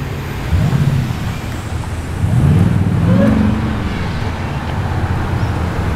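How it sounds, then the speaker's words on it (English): A Jeep engine revs as it passes on a city road in Liverpool, Sydney, its low rumble rising and swelling through the middle before fading back into steady traffic noise. "Listen to that Jeep sounding sweet."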